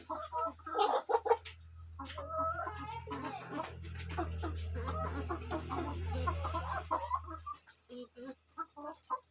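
Village hens cluck close by in a coop at feeding and egg-collecting time, with short clucks recurring over a steady low hum.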